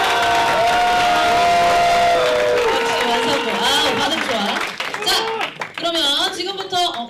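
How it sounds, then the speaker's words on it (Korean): A crowd of high school students at a student council leadership retreat clapping and cheering, loud and close, with shouts and voices rising over the applause before it thins out and talk takes over. "여러분들의 큰 박수로 시작하도록 하겠습니다."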